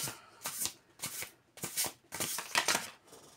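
Tarot cards are shuffled during a card reading, giving a run of about six crisp riffling bursts in a steady rhythm, close and alone with no talk.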